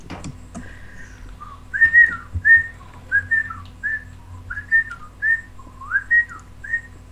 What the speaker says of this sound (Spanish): Silbar.